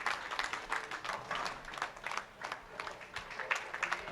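Applause breaks out for the winner of a women's singles medal match at the World Bowling Senior Championships, a steady patter of many hands clapping in an arena, fairly faint and continuous, with no voices over it.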